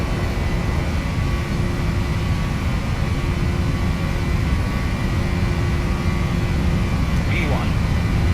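A simulated PMDG 737 NGX airliner's jet engines roar through the takeoff roll, a loud, steady, unbroken rumble with a faint whine on top.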